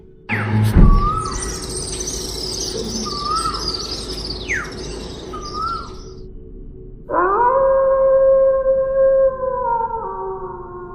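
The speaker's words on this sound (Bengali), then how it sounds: "রাত জাগা পাখির ডাক" Night birds call in a dark, forest-ringed village setting for a horror story: short repeated chirps and a descending whistle over a low hum, then a sustained wailing, howl-like tone takes over in the final seconds.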